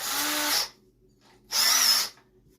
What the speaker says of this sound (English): So I am using a 1-inch spade bit because I am doing a hole for a 1-inch rod.